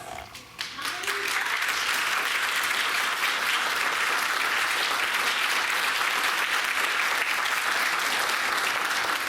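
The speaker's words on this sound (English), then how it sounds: "My nominees, would you please stand for a round of applause?" An audience at a high school thespian society awards and induction night gives award nominees a round of applause: dense, sustained, loud clapping that swells in the first second and holds steady throughout.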